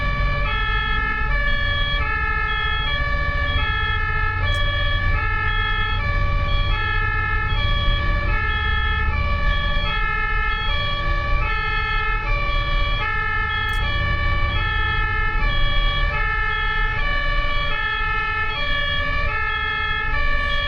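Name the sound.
ambulance siren in Germany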